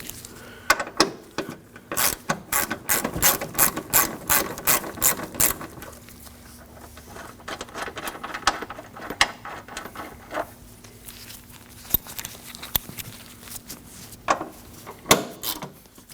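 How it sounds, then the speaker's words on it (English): A hand ratchet loosens the two 13 mm bolts on the brake bracket of a 2009-2014 Ford F-150, with rapid bursts of close clicking, a pause, then more sporadic clicks and clacks as the bolts come free. "Now we can go ahead and remove the 2 13mm bolts holding the entire bracket in."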